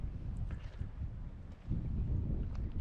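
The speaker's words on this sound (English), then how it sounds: "It's a little bit windy." Gusty wind buffeting the microphone at an open campsite at Minnie Water, New South Wales, a low rushing roar that swells and dips, strengthening toward the end, with no one speaking.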